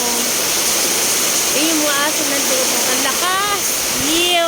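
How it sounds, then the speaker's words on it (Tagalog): Very heavy rain pours steadily in Bicol, a loud continuous broadband wash like rushing water throughout, with someone speaking excitedly over it. "Sobrang lakas ng ulan."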